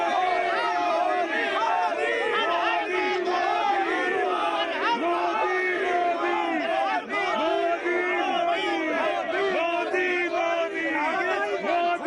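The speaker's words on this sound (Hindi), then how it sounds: "भीड़ आ रही है" A large crowd arrives at an election rally in Varanasi, a dense and continuous roar of many voices shouting and chanting together, loud and close throughout.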